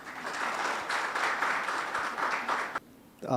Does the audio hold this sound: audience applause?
yes